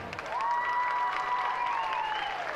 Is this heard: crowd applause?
yes